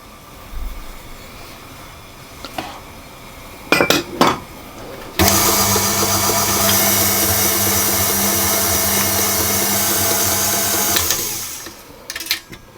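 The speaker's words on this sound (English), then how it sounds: "I'm going to add my egg in and mix that until it's fully combined" Egg being mixed into devil's food cake batter with an electric mixer, a few clinks and short bursts before a loud steady whir runs for about six seconds and then stops.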